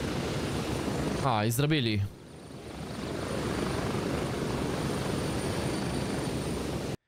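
A helicopter in the video game Gray Zone Warfare drones with a steady, loud rotor and engine wash throughout, as someone briefly talks over it early on.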